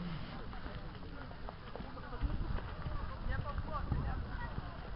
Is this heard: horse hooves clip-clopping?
yes